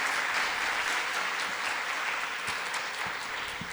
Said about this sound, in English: Good applause for all the panelists.